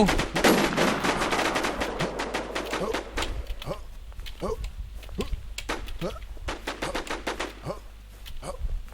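Gunfire crackles through an online shooting video game, with rapid bursts and single shots repeating across the clip alongside a loud, busy opening.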